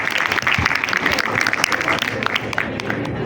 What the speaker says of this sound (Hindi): एक बार जोरदार तालियां दोबारा